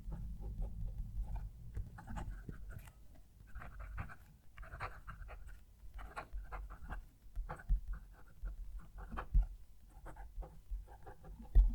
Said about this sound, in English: This is a very loud writing nib. It's not scratchy. It doesn't feel scratchy. It sounds scratchy, but it's not.